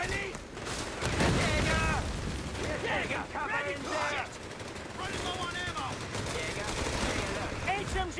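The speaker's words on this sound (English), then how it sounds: "Infantry firing on us!" Machine gun fire in the World War II strategy game Company of Heroes 3, dense overlapping bursts of rapid shots and distant battle noise running throughout, mixed with shouted soldier voice lines.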